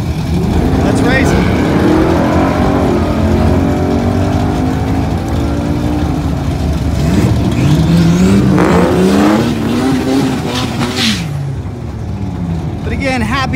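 Loud engines from a car and a Yamaha R6 motorcycle drag racing on a sunny Southern California strip, with rising revs, high-pitched whines, and a fast pass near the end, and people talking over the noise.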